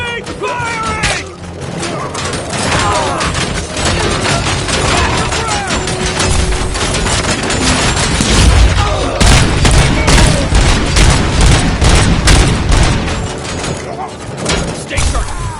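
Gunfire in the Robocop video game: dense, rapid bursts of shots and booming impacts pile up loudly and continuously, with shouted voices mixed in beneath the barrage.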